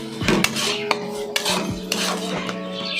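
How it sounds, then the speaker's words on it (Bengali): Mashed cabbage is stirred and pressed into oil in a bowl for a Bengali cabbage bharta, with a spoon scraping and clinking against the dish in a steady run of close, fairly loud knocks and scrapes, and no talking. "ভালো করে জিনিসটাকে তেলের মধ্যে মজিয়ে নিতে হবে।"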